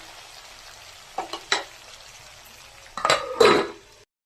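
Brinjals (eggplant) cook in a pan with curry leaves for vangi bath. A steady low sizzle runs throughout, with a few sharp clinks of a utensil against the pan partway through and louder stirring scrapes near the end. No one speaks.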